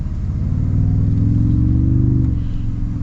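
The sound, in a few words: 2025 Toyota Tundra TRD Pro engine accelerating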